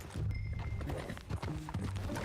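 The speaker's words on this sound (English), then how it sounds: "That a new horse?" Horse hooves clip-clop in a steady walking rhythm in the video game Red Dead Redemption 2, a series of close, soft thuds with some faint whinnying overtones and low background ambience.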